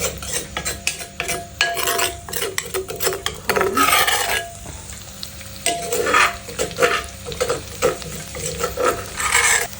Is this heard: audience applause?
no